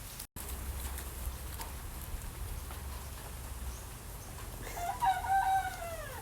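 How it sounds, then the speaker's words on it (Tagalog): A rooster crows outdoors near a cacao farm, one fairly faint call rising near the end over a quiet, slightly rainy-sounding background. "Hi, chicken."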